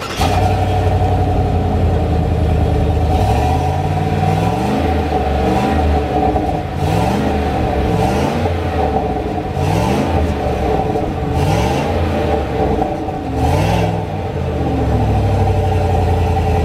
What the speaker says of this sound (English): let's go ahead and start it up so you guys can get that exhaust note real quick